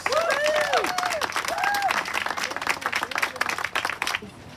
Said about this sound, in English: if everybody could give him a big round of applause